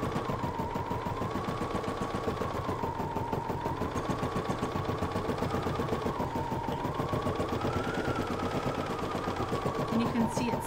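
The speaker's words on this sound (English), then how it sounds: "it's going to stitch that directly onto the stabilizer." An embroidery machine stitches a design straight onto stabilizer, giving a rapid, even mechanical chatter with a steady hum that runs close and loud throughout.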